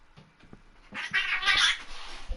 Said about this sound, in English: My cats just Sarah. suddenly attacked each other.